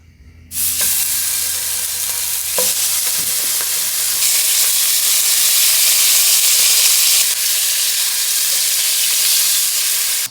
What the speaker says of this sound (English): And we're gonna cook it onto the cast iron to get a little bit of a grill on it.